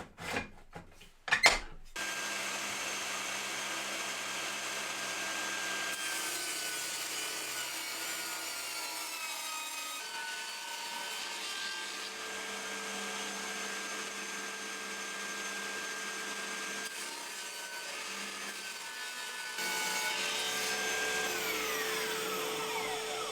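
A saw rips strips of MDF in a workshop, giving a steady, loud whine and rasp that runs for about twenty seconds after a short burst of clatter at the start, with the tone shifting slightly as the cut goes on.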